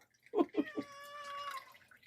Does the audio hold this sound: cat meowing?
yes